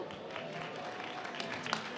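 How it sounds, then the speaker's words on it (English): Audience applause at a software demo jam event, a steady wash of clapping from a crowd with a few sharper claps and a faint whoop, moderately quiet and continuous throughout. "Round of applause."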